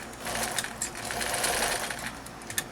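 Close domestic sewing machine stitching across the end of an accent scarf, a steady, fast run with a few light clicks.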